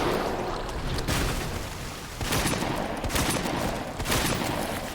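Booming shotgun blasts in the Resident Evil 2 Remake video game, loud and close, fired in a steady sequence about a second apart with rumbling decay between shots.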